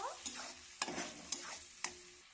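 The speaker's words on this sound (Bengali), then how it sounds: "ভেটো করে রাখা সবজিটা দিয়ে একটু নাড়াচাড়া করব" Vegetables stirred with ginger and garlic in a pan for pasta, a spoon scraping four times at an even pace over a soft, steady sizzle, close and fairly quiet with no talking.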